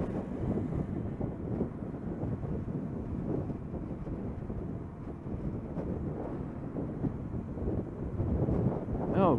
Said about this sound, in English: Oh, Jesus Christ, it's windy.